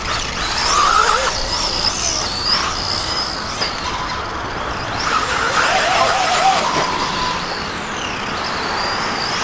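A Tekno EB410 RC car fitted with a HobbyWing ESC drives on a track, its electric motor whining loudly and steadily with tire scrubbing and rising, falling pitch as it speeds along.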